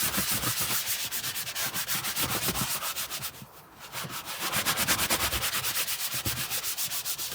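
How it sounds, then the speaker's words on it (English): A brush scrubs a leather car seat with leather cleaner in quick, steady back-and-forth strokes, close and fairly loud, with one brief pause midway and no talking. "And then come in and just start scrubbing."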